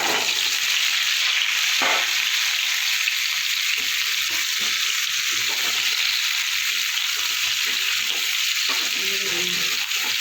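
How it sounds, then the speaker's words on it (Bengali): Small new potatoes frying in hot oil for aloo dum, a loud, steady hiss and sizzle filling the space, with a few soft stirring knocks near the end and no speech. "প্রথমে আলুটা ভেজে আমি তুলে নেবো।"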